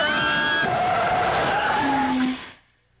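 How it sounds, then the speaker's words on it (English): A loud, sustained hiss with a whistling, squealing tone from vehicle air brakes holds steady for a couple of seconds, then cuts off and fades into quiet. "Air brakes."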